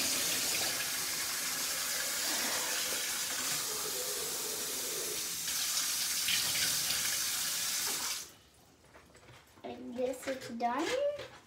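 Water running steadily from a tap into a sink while dishes are washed, a loud continuous rushing hiss that stops abruptly, followed by softer splashing and clinking close by.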